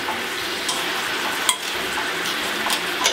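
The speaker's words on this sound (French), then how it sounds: "À ce stade-là, bacon revient dans le sirop d'érable." Bacon sizzles in maple syrup in a pan, a dense, steady frying hiss up close with a few sharp utensil clinks scattered through it, no talking.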